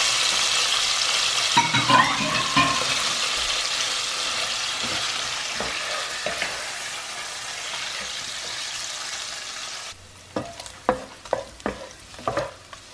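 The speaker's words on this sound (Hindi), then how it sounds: "चिकन फ्राई हो गया है." Chicken frying in a pan, a steady loud sizzle with occasional stirring scrapes, then it stops and gives way to scattered clatters and knocks from utensils, near and without talk.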